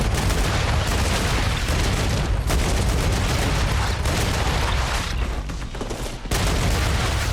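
Sustained automatic gunfire from a weapon in the space factory-building game StarRupture, a dense, loud, continuous rattle of rapid shots with a couple of brief gaps, heard close and alone.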